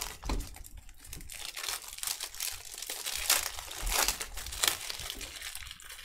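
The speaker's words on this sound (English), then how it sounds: "I'm going to open all the packs." Busy crinkling and tearing of foil wrappers as 2018-19 Select Football card packs are torn open, close and continuous, with bursts of rustling and crunching throughout.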